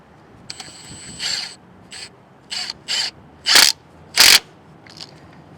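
A clamp is ratcheted tight on a 1967 Ford truck in a garage, sounding as a series of sharp, loud clicking bursts at an uneven rhythm, with no talking.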